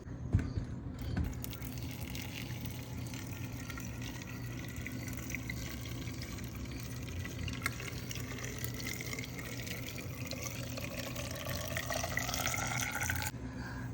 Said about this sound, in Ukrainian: Тепер заливаємо окропом.